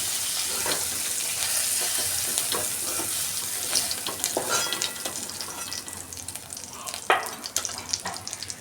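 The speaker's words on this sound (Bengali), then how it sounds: "চিংড়ি মাছগুলো হালকা করে ভেজে নেব" Oil sizzles steadily as prawns fry in a pan, with scattered clinks and stirring clatter rising near the end.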